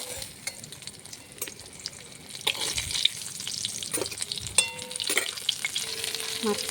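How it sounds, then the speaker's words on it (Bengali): A hilsa fish head frying in oil makes a close, crackling sizzle. Sharp spatula scrapes and taps come irregularly and grow busier and louder toward the end, with no voices. "মাছের মাথাটাও ভেজে নিলাম।"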